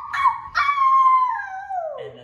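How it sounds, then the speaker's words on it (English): A dog howls on command nearby, two short yelping starts flowing into one long, wavering howl that slides downward and ends in a low grumble. "Now stand up and howl to the moon."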